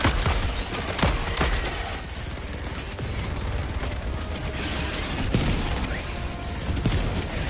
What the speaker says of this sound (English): Get them, turrets!